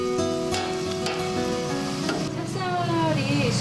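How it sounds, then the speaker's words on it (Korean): Glutinous rice dough for Korean hangwa frying in hot oil, a loud steady sizzle with bubbling crackle throughout, while people talk over it. "찹쌀 반죽을 먼저 저온의 기름에 담가 두었다가 끓는 기름에 옮겨 튀겨야 2배로 커지면서 모양이 흐트러지지 않습니다"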